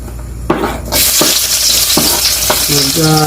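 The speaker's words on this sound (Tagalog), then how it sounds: "So, ilagay na natin itong bawang." Garlic drops into hot oil and bursts into a loud, close sizzle that holds steady, with a few stirring clatters. A short tonal clink comes near the end.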